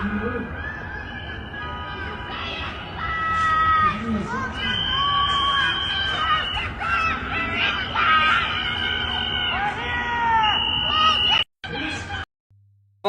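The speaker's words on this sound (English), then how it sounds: "Functionally, it's people screaming, close your doors, get inside, they're here, hide." A crowd screams and shouts in Minneapolis streets, a dense, loud wall of overlapping high voices that holds for about eleven seconds before cutting out abruptly in short bursts near the end.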